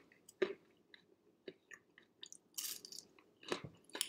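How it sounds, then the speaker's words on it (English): Crunchy fries being eaten up close, with several crisp bites and chews in an uneven rhythm, a few sharp crunches standing out over a quiet background and no talking. "these fries are crunchy."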